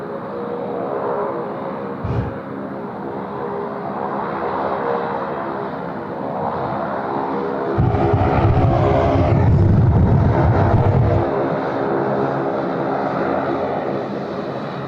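A departing airliner at Sydney Airport roars steadily with a dense engine rumble, swelling louder midway before holding a strong, sustained drone; no one speaks.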